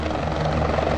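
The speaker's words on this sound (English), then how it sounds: "the wheel elevates the helicopter's rotary blades" Helicopter rotor blades beating in a loud, dense, continuous roar with steady engine hum, close and filling the whole short stretch with no voices.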